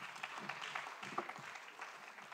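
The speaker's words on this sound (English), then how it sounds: "Please, let's give him a clap." Conference audience applauding, a steady patter of many hands at moderate distance, faint and continuous without speech.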